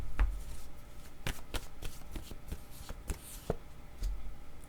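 Tarot cards being handled and shuffled, crisp papery flicks and slaps in uneven bursts, close and moderately quiet, with no voices.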